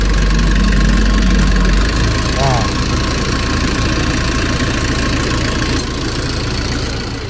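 A car engine idles steadily with its idle-up working, the drive belts running, a constant close mechanical hum under a voice.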